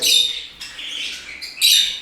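Budgerigars and finches in an indoor bird room break into bright, overlapping chirps and calls, loud and close, swelling in two bursts with a softer stretch between.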